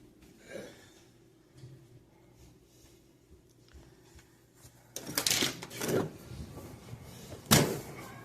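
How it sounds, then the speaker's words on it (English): A house door opening at home, with a few sharp clattering thumps and knocks near the mic after a quiet stretch of low room hum. "Open the door."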